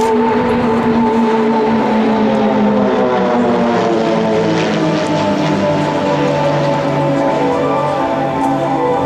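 A Swiss Air Force Pilatus PC-7 team passes during an airshow display at Kleine Brogel, a sustained propeller drone with layered harmonic tones, loud and continuous across the whole stretch with no talk.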